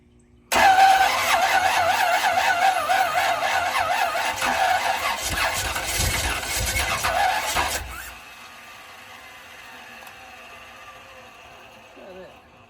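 A classic truck engine cranks and catches after a starter replacement, a loud churning whir for about seven seconds that suddenly drops away to a low idle with faint background noise.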